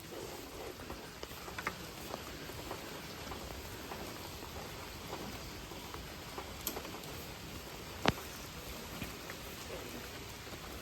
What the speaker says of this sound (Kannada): ಮಳೆ ಬರ್ತಿದೆ